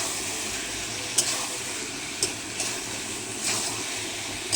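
Boiled mutton being stirred into masala in a pan for curry, a steady close sizzle with a few light scraping knocks from the spoon.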